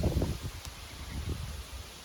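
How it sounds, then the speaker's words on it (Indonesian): A strong gust of wind rustles leaves outdoors at a work site, a soft, steady whooshing rustle with a few slightly louder flurries at the start, fairly quiet and with no voices. "tiba-tiba ada angin kencang kayak gini"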